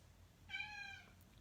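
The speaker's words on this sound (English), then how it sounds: "That's my cat." A single domestic cat meows once, a clear drawn-out call heard close by over a quiet low room hum, with no talking around it.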